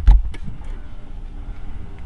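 An Audi A5 engine fires up with a short, punchy cranking burst and then settles into a steady, low idle rumble close by.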